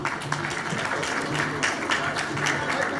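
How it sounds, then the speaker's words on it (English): Audience applause at a company annual general meeting, a steady wash of clapping that runs the full length at a fairly low level. "a round of applause for the woman."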